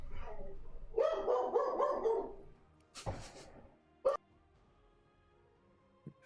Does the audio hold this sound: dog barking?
yes